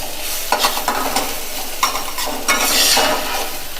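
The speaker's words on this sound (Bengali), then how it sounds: "এটা ভালো করে রসুন আদা আমি এটা ভালো করে ভেজে নিচ্ছি।" Ginger and garlic fry in a pan while a spatula stirs and scrapes them in quick repeated strokes over a constant close sizzle.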